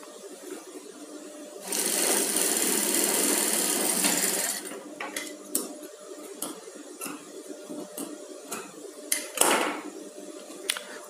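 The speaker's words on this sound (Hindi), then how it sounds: "और फिर इसमें डबल सिलाई लगा देनी है" A sewing machine runs a double line of stitching on a koti, a steady loud whir for a couple of seconds, then short bursts and clicks as the fabric is adjusted.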